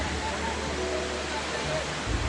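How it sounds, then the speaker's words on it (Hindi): Powerful Himalayan waterfall pouring water and snow down from a great height, a steady loud roaring rush that fills the air without pause. "पानी के साथ साथ बर्फ़ भी आ रही है और बहुत ही तेज़ी से और बहुत ऊंचाई से आ रहा है"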